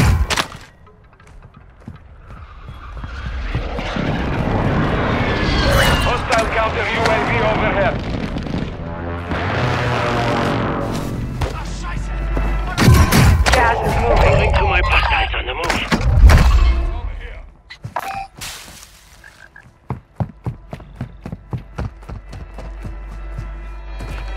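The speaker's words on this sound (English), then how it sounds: "Precision airstrike inbound." A precision airstrike in a Call of Duty: Modern Warfare II match brings a chain of sharp explosive blasts and cracking gunfire bursts, loud and uneven, mixed with intermittent voice chatter and fading into scattered shots.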